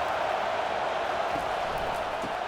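Steady, dense stadium crowd roar from a simulated Texas Longhorns at Michigan Wolverines college football game in EA College Football 25, a continuous even wash of massed voices with no distinct peaks.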